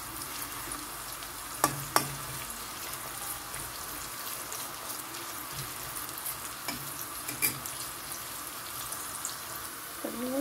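Onions frying in oil while being stirred make a continuous close sizzle, broken by a few sharp scraping clicks of the utensil against the pan.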